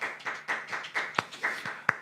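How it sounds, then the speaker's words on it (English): A few people clap for a Eurovision performance, a quiet, fairly even run of hand claps about four per second with a couple of sharper, louder slaps, close by and without talk. "This deserves a round of applause."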